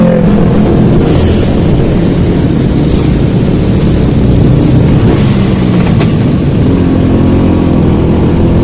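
A 2004 Vespa Excel scooter rides along with a smooth, even engine hum and a mellow, unobtrusive exhaust note, a constant low drone with wind rush and no speech.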